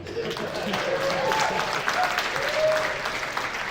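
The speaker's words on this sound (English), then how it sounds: "I will pause for applause right now." An audience at a business presentation claps steadily throughout, moderately loud and continuous, with a few voices mixed in underneath.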